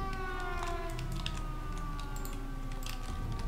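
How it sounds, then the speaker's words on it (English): Several sirens in a naval warfare video game wail at once, overlapping tones rising and falling against a constant background hum, steady throughout with no speech. "Sirens, sirens, sirens, sirens. Lots of sirens."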